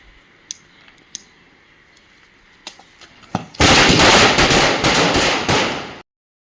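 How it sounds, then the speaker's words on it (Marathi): During Diwali, a few scattered sharp pops, then a loud, dense burst of crackling firecrackers rattling rapidly for about two seconds before stopping abruptly. "आता वाजले 6 आणि आपण चालतो फटाके फोडायला"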